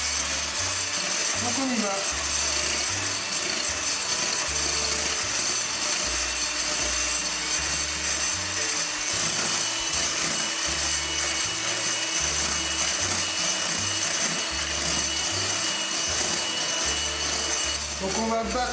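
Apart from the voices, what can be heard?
electric mixer beating egg whites for meringues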